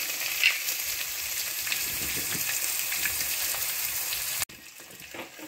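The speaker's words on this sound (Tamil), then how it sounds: "இதை போட்டு நல்லா ஃப்ரை பண்ணிக்கங்க" Onion and curry leaves frying in hot oil with a little cinnamon and chilli for a banana-flower poriyal, a steady close sizzle that cuts off abruptly near the end and returns more faintly.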